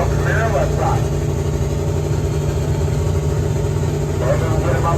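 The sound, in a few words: turbocharged 1999 Camaro drag car engine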